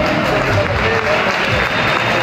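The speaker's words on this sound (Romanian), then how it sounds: "Un rând de aplauze!" Applause from the audience at a Dynamite Fighting Show face-off event, a dense and steady wash of clapping and crowd noise that fills the whole stretch with little variation.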